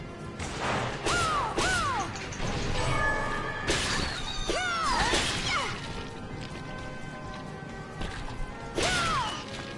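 Game birds caw repeatedly in short, sweeping calls over a busy backdrop of clanks and crashes, several cries close together near the start, more in the middle, and another toward the end.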